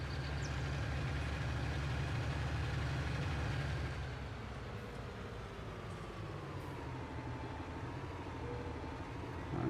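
Blue tractor engine in Farming Simulator 19 droning steadily at close range, a continuous low rumble with a slight shift in pitch midway, no voices.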